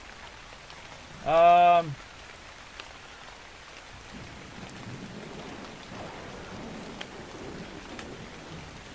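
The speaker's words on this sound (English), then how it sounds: "Sounds like it's raining. A rainstorm coming in." Steady rainfall in the video game Eco forms a constant soft hiss throughout, with a brief tonal chime early on and a single spoken word.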